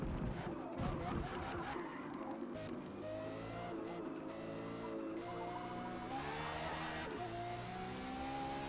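A Pagani Zonda Cinque driven in Forza Motorsport, its engine droning and rising through the gears at moderate volume under someone talking.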